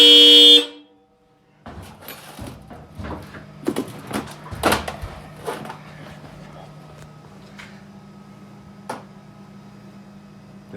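A newly installed aftermarket horn on a Jeep blares once, loud and close, then cuts off. Scattered clunks, knocks and rattles from the vehicle follow against a low steady hum.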